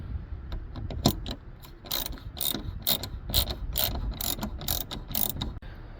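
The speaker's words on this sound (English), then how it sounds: "So to start, remove those two screws." Ratchet wrench with a Torx T30 bit backing out taillight screws on a Chrysler Town & Country minivan, a steady run of quick, close clicking pawl strokes in short bursts with no talking.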